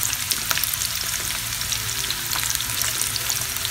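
Steady, loud sizzling of sliced onions frying in a hot pan for a fish tomato chili fry, a continuous crackle with small pops throughout and no voices.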